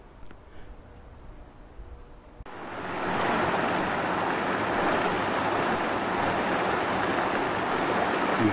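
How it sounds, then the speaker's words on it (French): Water of the Meuse river in the Ardennes rushing steadily as a broad, loud wash of flow, starting faint and swelling after a couple of seconds into continuous torrent-like noise. "Juste le bruit de l'eau."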